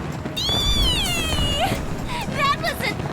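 In Lightning Returns: Final Fantasy XIII, a cat character gives drawn-out, wavering meows, a long rising cry followed by shorter yowls, mixed with voiced game dialogue and a steady low background.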